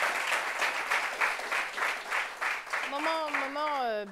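An audience in a talk-show discussion about AIDS claps in a steady, rhythmic burst, and a high wavering voice-like cry rises over the clapping near the end.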